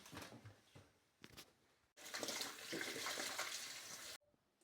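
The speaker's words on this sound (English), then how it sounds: "So next thing is to wash our cassava." Water runs and splashes over cassava being washed, at first in short uneven bursts, then in a louder steady flow for about two seconds before it cuts off abruptly, with no speech.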